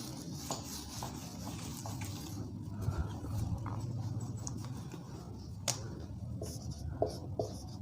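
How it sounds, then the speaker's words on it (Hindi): Marker or chalk writing on a board during a physics lecture on refraction, a steady faint scratching and tapping of strokes under a low room noise, with a few sharper taps, no speech. "उसको लिखते हैं।"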